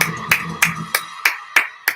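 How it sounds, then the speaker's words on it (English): Six sharp hand claps, spaced evenly about a third of a second apart, loud and close, with a faint murmur of voice under the first few. "You better applaud too"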